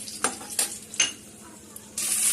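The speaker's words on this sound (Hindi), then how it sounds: "तो अब हम फिर से 1 चम्मच घी डालेंगे और डालेंगे बादाम" A spoonful of ghee with almonds roasting in a pan, a soft sizzle under a few sharp clinks and scrapes of a stirring spoon, then the frying hiss grows louder at the end.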